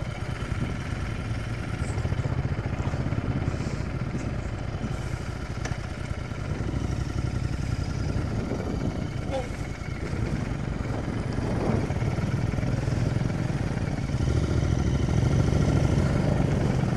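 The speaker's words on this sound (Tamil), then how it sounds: "அங்கே பாருங்க, வண்டி சும்மா வீல் சுற்றுது." A motorcycle engine running steadily with its wheel spinning, a continuous mid-pitched rumble and clatter that grows slightly louder toward the end, fairly close and without talk.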